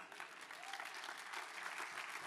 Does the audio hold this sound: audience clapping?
yes